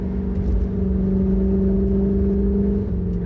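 Corvette C8 engine held at about 3,000 RPM: a loud, steady, deep drone with a slight dip in pitch near the end, continuous and close with no talk.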